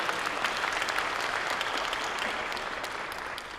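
An audience at a university fall convocation ceremony gives steady, dense applause with many hands clapping at once, heard from some distance and fading slightly.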